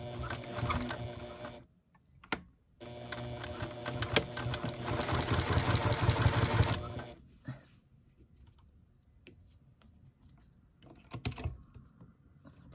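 A sewing machine stitching a baby quilt gives close, fast mechanical whirring in two long runs separated by pauses, then brief clicks and handling noises.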